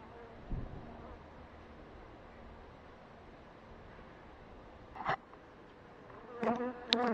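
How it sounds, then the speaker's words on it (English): Bees buzzing around a beekeeper at an apiary, a soft continuous hum with individual bees flying close past and louder buzzes near the end, fairly faint overall and no talk. "These bees are definitely a little bit stroppier than average in this apiary."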